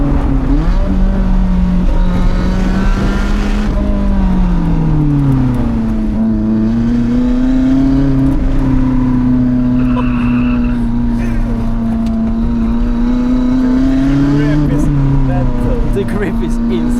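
Lotus Elise sports car driven hard on a mountain touge road, its engine droning loud and close with rising and falling pitch through gear changes and revs, continuous throughout.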